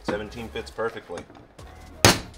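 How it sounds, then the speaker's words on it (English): A hammer strikes a socket on a Nissan 300ZX engine part with one sharp, loud metallic whack near the end, after someone speaks briefly up close. "Let's grab a hammer and a socket, see if that fixes my issue."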